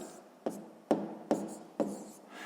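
A pen scratching across paper while working a sixth-grade maths exercise, steady soft scraping broken by four distinct tapping strokes at regular intervals, close and alone without talk.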